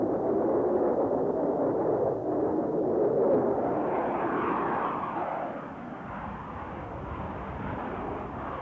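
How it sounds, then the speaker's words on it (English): An F-8 Crusader jet roars past in a sustained, loud engine wash. The pitch shifts as the aircraft makes its pass, and the sound eases slightly toward the end. "Canberra pilots were stunned to find this new American aircraft making vertical passes at their bombers."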